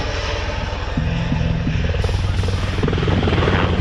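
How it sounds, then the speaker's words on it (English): A Navy MH-60 Romeo Seahawk helicopter flies over an airshow crowd, its loud rotor thump and turbine whine steady and close for the whole stretch. "here comes the Navy's 5th generation sub-hunter and anti-surface warfare helicopter, the MH-60 Romeo Seahawk."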